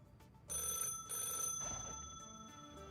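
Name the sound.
landline telephone ringing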